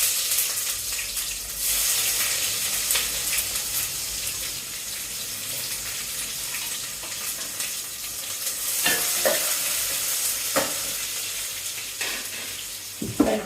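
Onions frying and being stirred in a pan of hot oil with whole spices for egg donne biryani: a steady close sizzle with scraping stir strokes and a few louder clatters near the end, no talk.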